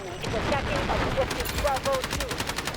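Rapid bursts of automatic gunfire in the video game Delta Force crackle from behind the player, irregular volleys of shots at mid distance with a voice speaking faintly underneath.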